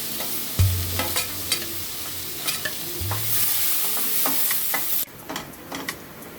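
Two medium onions, finely chopped, frying in a pan for palak paneer as they are stirred: a loud, continuous sizzle with repeated spoon scrapes and a couple of low knocks, then a sudden drop to quieter frying near the end.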